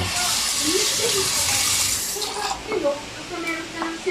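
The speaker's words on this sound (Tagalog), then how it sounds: "Konting tubig. Malamig na tubig lang." Cold water pours into a cooking pot while pancit is being made, a loud continuous rushing hiss that tapers off, with people talking over it.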